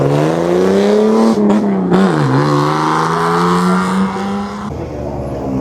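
Jaguar racing car on the Kop Hill hill climb, a loud close engine revving and holding high pitch through gear changes, with one sharp dip mid-run, before fading slightly as it pulls away.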